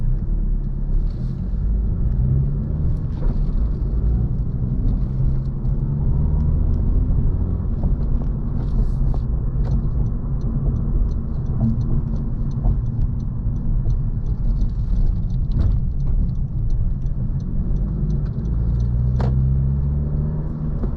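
A car cruises through New Orleans streets near Canal Place and the French Quarter, its steady low engine and road rumble continuous throughout with faint intermittent clicks and traffic noise, no talking.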